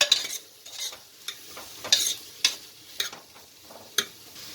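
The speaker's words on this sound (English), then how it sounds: "So mix well all vegetable." Tomato and drumstick vegetables being stirred in a pan for South Indian sambar, with a soft sizzle under a run of sharp spoon scrapes and clinks that come in an uneven rhythm, close and fairly loud.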